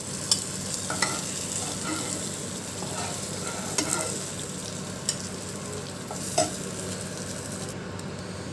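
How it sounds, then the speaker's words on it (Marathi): Bangda mackerel coated in rice flour frying in a pan, a dense, even sizzle filling the whole stretch, with a few sharp clicks and pops from the fish being turned or touched. "तर यांनासुद्धा आपण असं तांदळाचं पीठ लावून घेतलेलं आहे आणि आता हे छान असे फ्राय करून घेऊ"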